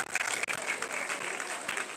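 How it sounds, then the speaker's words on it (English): A crowd of university students claps steadily at a freshmen orientation in a dense, continuous patter of applause, moderately distant and filling the space without any speech. "Please, a round of applause."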